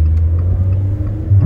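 A Fiat Argo Turbo engine drones steadily at low pitch, a continuous close rumble with a slight swell near the end and no distinct exhaust pops.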